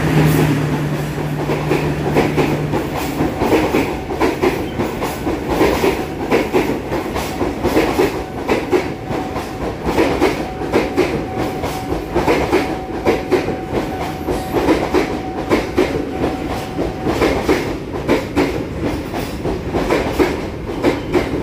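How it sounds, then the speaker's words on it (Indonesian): The long Sawung Galih passenger train rolls steadily past close by on an Indonesian station track, wheels clattering rhythmically over rail joints for the whole stretch, with a brief low horn at the start. "Kereta yang melintas di jalur 1 adalah kereta api Sawung Galih"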